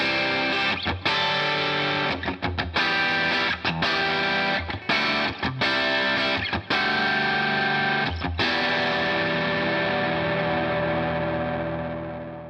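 A PRS SE Custom 22 semi-hollow electric guitar with both pickups in single-coil mode plays a driven rock riff, chords stabbing between short breaks, then rings out into a long sustained decay.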